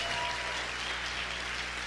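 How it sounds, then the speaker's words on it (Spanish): Loud, sustained applause from a church congregation praising God during a sermon, a dense continuous wash of many hands clapping together with no talk over it. "Que se escuche ese aplauso fuerte"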